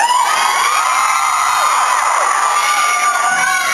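Fans scream and cheer without pause at a Breaking Dawn tour event in Los Angeles staged like a rock concert, a loud, dense, high-pitched crowd roar with no break throughout.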